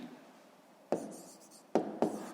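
A pen scratches out numbers on paper during a fifth-grade maths exercise, with three short, close strokes standing out against a quiet room.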